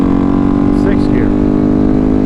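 A 2019 KTM 690 SMCR single-cylinder motorcycle cruises in sixth gear at about 100 mph on a country road, its engine a steady, loud drone mixed with heavy wind rush.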